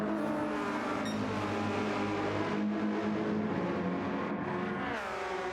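A race car at the Le Mans endurance race brakes into a corner and then accelerates away. The engine note is a steady, moderately loud whine that drops and then rises again as it pulls off.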